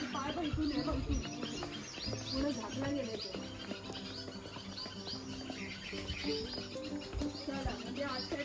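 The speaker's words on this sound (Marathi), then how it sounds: "इथे पक्ष्यांचा किलबिलाट बघा" Birds chirp in a garden at the Statue of Unity in Gujarat, with scattered faint tweets over a busy background of people talking nearby.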